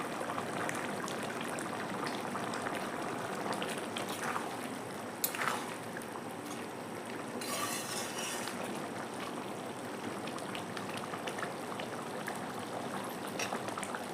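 A pot of jackfruit curry bubbles and simmers steadily throughout, a continuous soft gurgling hiss with a few brief louder pops and splutters.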